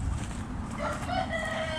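A village rooster crows once, fairly close and moderately loud, amid a flock of chickens, with other birds faint in the background.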